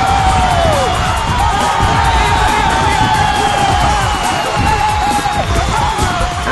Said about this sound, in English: And the fans on their feet applauding a great cup team who've done so well in this tournament.